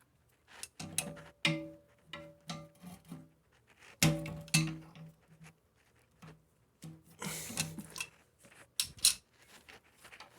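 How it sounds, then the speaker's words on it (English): Channel locks working a plastic nut loose on a toilet fill valve, heard as sporadic close creaks, scrapes and clicks with pauses between bursts. "We'll go ahead and get the channel locks and get that off."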